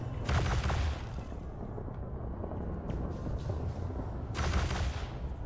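Imperial Hammer railgun fired in the space game Elite Dangerous, heard as heavy rumbling bursts of weapon fire, loud and close, with a second blast near the end over a steady low engine drone.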